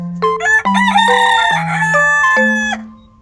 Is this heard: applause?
no